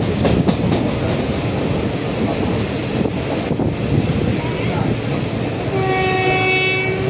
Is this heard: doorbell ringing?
no